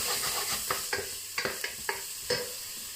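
Garlic sizzles with fried onions in a pan for a base of tin bean soup, a continuous close frying hiss broken by several sharp stirring clicks and scrapes.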